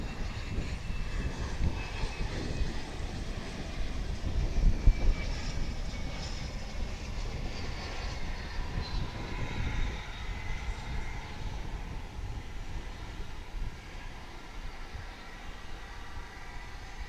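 Embraer 145 LR regional airliner arriving at DFW airport, a steady broad jet engine roar held at moderate distance throughout, peaking briefly near the middle and easing slightly toward the end, with no voices.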